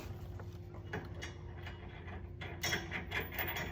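A nut being threaded by hand onto a trailer hitch bolt on a 2013 Ford F-150 XL, giving soft, quiet metallic clicks and rubbing turns over a low background hum.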